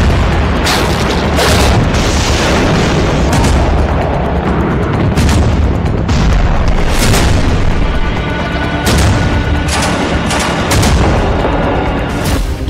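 Explosions in Gaza during the war, a loud sustained barrage of repeated heavy booms and blasts that recur every second or two over a constant rumbling din.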